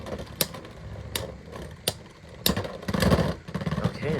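Beyblade tops, including a Shinobi Knife, spin and clash in a stadium battle, giving sharp metallic clicks and knocks at uneven intervals over a rattling whir that grows busier toward the end.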